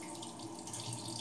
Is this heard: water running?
yes